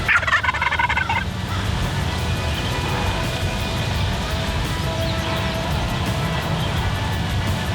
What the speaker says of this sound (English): those birds just shock gobbled their whole way in